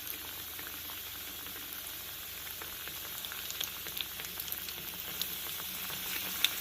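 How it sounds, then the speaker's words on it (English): Fish pieces fry in hot oil in a pot, giving a steady close sizzle with scattered crackles and pops that grow a little busier toward the end. "We're beginning to fry our fish."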